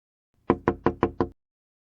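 Five sharp knocks on a door, evenly spaced in a quick run, close and loud with nothing else heard.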